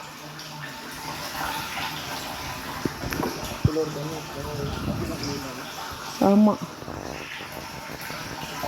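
Water from a motor pump gushes and splashes steadily into a tank, a continuous rushing flow under brief talk, with a few knocks and a short burst of noise partway through.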